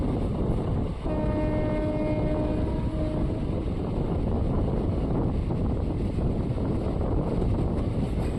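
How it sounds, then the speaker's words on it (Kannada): A passenger train rolls into Anantapur railway station toward platform 4, with a loud, continuous rumble of wheels and carriages and a sustained horn blast near the start, heard close and without talk. "ನಮ್ಮ ಟ್ರೈನ್ ಈಗ ಅನಂತಪುರ ರೈಲ್ವೆ ಸ್ಟೇಷನ್ಗೆ ಎಂಟ್ರಿ ಆಗ್ತಿದೆ, ಪ್ಲ್ಯಾಟ್ಫಾರಮ್ ನಂಬರ್ 4ಕ್ಕೆ"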